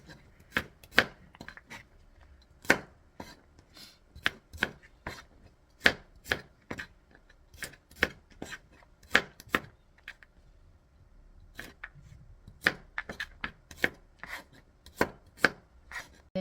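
Ginger and garlic are sliced with a knife on a cutting board, bursts of sharp, close knocks in quick irregular runs with brief pauses, for Korean dongchimi radish water kimchi. No one speaks.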